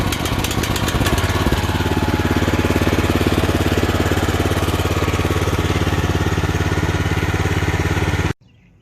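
A Little Wonder Bedshaper bed edger's small engine runs at a loud, steady rattling idle for about eight seconds, then cuts off abruptly, with no voices over it.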